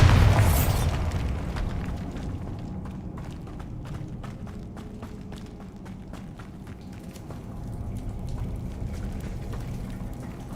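A Bombarda blasting spell from Hogwarts Legacy bursts loudly at the start, followed by a rumbling aftermath and scattered sharp crackling pops that fade over several seconds, with no talking.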